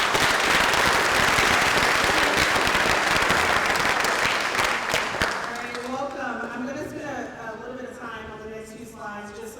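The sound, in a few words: audience applause at a school orientation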